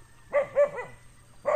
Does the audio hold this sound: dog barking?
yes